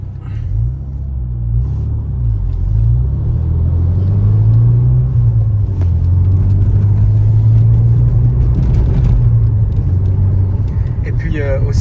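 A Renault Megane RS engine rumbles steadily from inside the car while driving, a low continuous drone with mild rises in pitch, heard under ongoing conversation between occupants.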